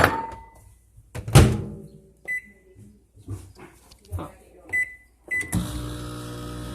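Marshmallows cooking in a microwave oven: a door thunk, then a few short electronic beeps and a low running hum close by, broken up by brief bursts of background voices and handling noise.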